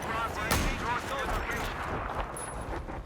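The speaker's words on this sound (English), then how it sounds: "Next, it's my favorite sniper, the 338 Recon." A 338 Recon bullpup sniper rifle firing in a video game, one sharp close shot followed by a long rolling echo, with a voice talking over it.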